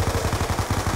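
Rapid, steady automatic machine gun fire from the Black Ops 2 Zombies farm map, the shots rattling at an even fast rhythm, loud and close throughout with no pauses.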